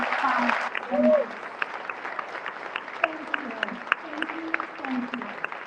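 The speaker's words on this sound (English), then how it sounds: "Let's give them a round of applause because they are helping fight the maps." Rally crowd in El Paso applauds city council members: a brief burst of clapping and cheering at the start fades to scattered claps while voices keep talking over it.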